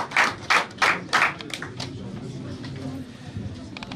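A handful of loud, separate claps at a Paris music showcase open the moment, then fade into a softer scattered patter as a voice speaks over the room.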